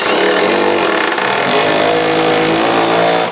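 A power drill drives a screw up through a board of LVP flooring, its motor whirring steadily and loudly throughout, close by with no talk.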